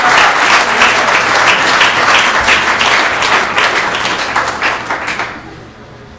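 Applause from the audience at a city council meeting, a dense, loud burst of many hands that holds steady for several seconds, then thins and fades near the end.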